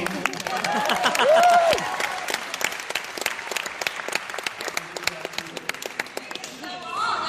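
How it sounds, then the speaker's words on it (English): Live audience applause at a cartoon show panel, a burst of clapping with a brief cheer early on, thinning into scattered distinct claps and fading out. "How about a round of applause for me?"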